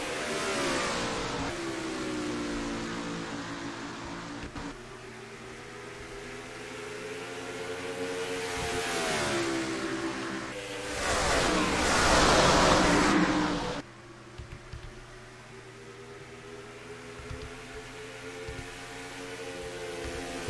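Simulated race car engines in the NR2003 game roar at the start of the Rockingham 65k, a sustained layered revving drone that swells and surges, with a brief louder burst midway and no speech heard.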